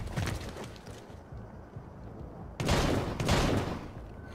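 Bursts of automatic gunfire in Splinter Cell: Blacklist, rapid crackling volleys at mid distance, a lighter stretch then a louder, denser burst near the end, with no voices.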